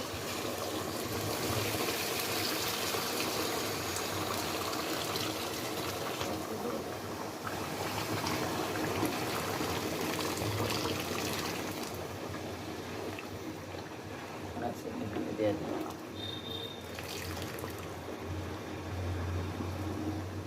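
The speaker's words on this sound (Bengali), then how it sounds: "পানিটা হয়ে গেছে, এখন খিচুড়ির সাথে অ্যাড করে দেব।" Hot water poured into a pot of cooking khichuri, a steady trickling, bubbling wash running close and fairly loud throughout, easing slightly toward the end.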